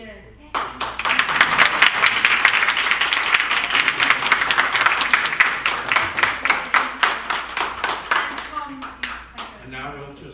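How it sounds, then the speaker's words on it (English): A workshop audience claps for each group, a dense round of applause that settles into rhythmic, evenly spaced claps before tapering off near the end. "I think we should applaud every group"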